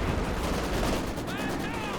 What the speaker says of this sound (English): That's a nice Zis barrage onto the double machine guns.